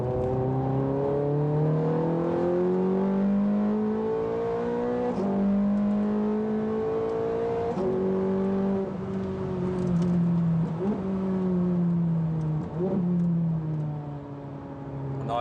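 A Ferrari F430 Scuderia engine drones steadily and close, its pitch climbing in repeated surges as the car accelerates through the gears, with short dips at each shift and no talk over it.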